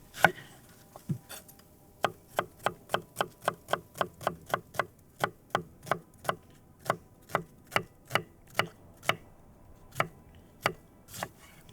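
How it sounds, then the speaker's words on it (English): A knife chopping an onion on a board at a campsite, about two dozen crisp, close knocks in a steady, even rhythm with short pauses, no talking. "If you don't mind, I'm gonna chop this up."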